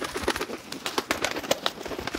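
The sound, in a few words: pigeon flying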